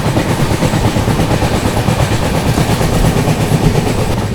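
The 22412 Arunachal AC Superfast runs between Anand Vihar and Naharlagun during heavy monsoon rain, with loud, close, rhythmic wheel clatter and a constant rumble heard alone and unbroken.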